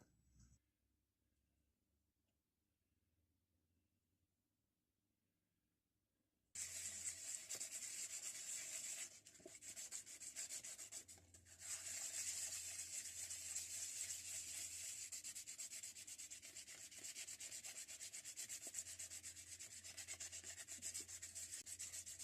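Steady hand sanding of epoxy filler on a metal vise, a continuous gritty rasp that starts after a quiet stretch and keeps going with brief pauses.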